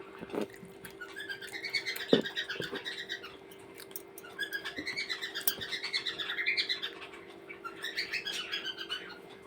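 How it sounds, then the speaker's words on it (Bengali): Pet birds chirp and call in repeated bursts of bright, warbling song close by, with a few sharp knocks and a steady low hum underneath; no one speaks. "দেখো আমার পাখিগুলো কিভাবে ডাকছে,"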